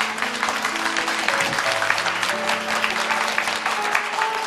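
A church congregation at a dawn prayer service applauds to welcome the pastor to the pulpit, a dense, steady wash of clapping from many hands that fills the room for several seconds, with faint sustained organ or keyboard tones underneath.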